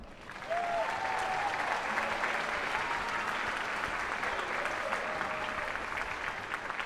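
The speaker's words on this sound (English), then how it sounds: "One quick round of applause for them again." Audience applause at a school district strings festival concert, a steady dense clapping that swells in within the first half second and holds evenly throughout.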